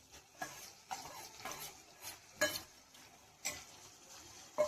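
Ridge gourd mash with turmeric is stirred in a pan, a spoon scraping and tapping in several sharp strokes spaced about a second apart over a soft sizzle, close and fairly quiet, with no voices.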